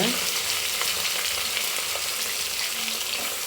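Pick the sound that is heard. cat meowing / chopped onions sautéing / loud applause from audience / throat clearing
chopped onions sautéing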